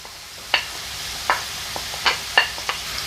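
Onion and mushrooms sizzling in a pan with nearly cooked potatoes, a steady close frying hiss broken by several short scraping stirs.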